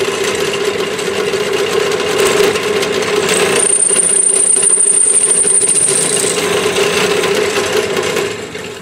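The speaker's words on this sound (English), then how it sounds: "I'm going to take the time to drill out the rest now." A steady, high-pitched whirring drill grinds continuously through a coin, loud and close, with a sharp whine rising partway through before easing off.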